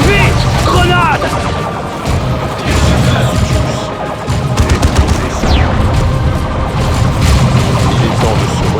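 A Dawn of War 2 battle between Eldar and Orks erupts with a grenade blast, booming explosions and bursts of rapid gunfire, dense combat noise layered throughout with occasional voices.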